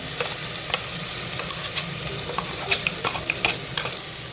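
Ground masala paste hits frying onions and curry leaves in a pot for mutton soup, producing a steady loud sizzle with scraping stirs and sharp crackles throughout.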